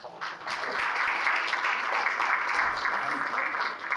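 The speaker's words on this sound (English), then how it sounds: "let's have a round of applause for them and their families" Chamber of commerce audience applauding in tribute to skating community victims and their families, a sustained, even wash of clapping with a few louder claps, fairly close and steady for several seconds.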